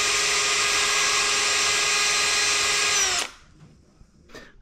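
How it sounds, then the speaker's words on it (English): A power drill bores a hole in a John Deere tractor part, its loud, steady whine running for about three seconds before cutting off abruptly, leaving faint handling noise and a brief clatter afterward. "drill another hole"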